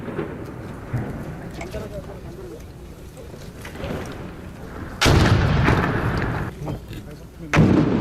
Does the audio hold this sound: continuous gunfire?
yes